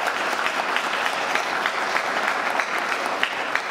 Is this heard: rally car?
no